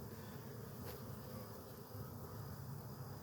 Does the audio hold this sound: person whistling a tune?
no